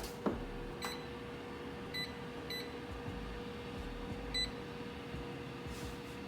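An oven timer being set for a baking Nutella cake gives a few short, quiet electronic beeps at uneven intervals over a low steady hum.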